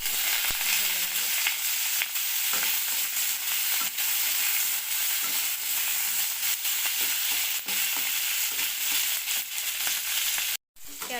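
Capsicum and onion frying in a pan for a Bengali paneer dish, a steady loud sizzle with occasional stirring scrapes, continuous throughout before a brief drop near the end.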